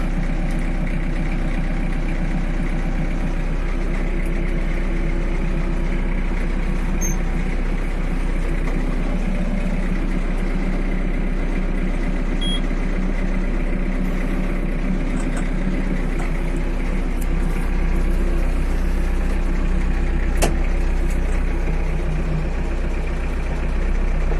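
An Iseki 48 Japanese tractor engine runs steadily at idle on its first spring start, a close, loud, low diesel rumble holding constant for the whole stretch with a cooling fan whirring along and no voices.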